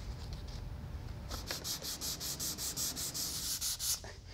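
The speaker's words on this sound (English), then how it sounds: "telling you why you should use a sanding block" Rhythmic strokes of a sanding block scrape back and forth across a Ford F100 truck panel, a steady series of about a dozen close, even rasps after a brief quieter start.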